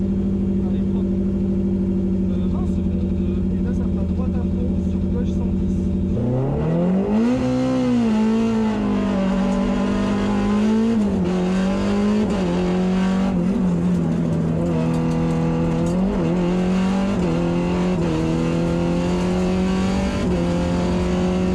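A rally car leaves the start line on a rally stage in the Piémont Oloronais, its engine idling low before it surges into loud revving acceleration through several gear changes. The recording is heard from inside the car, with voices in the cabin.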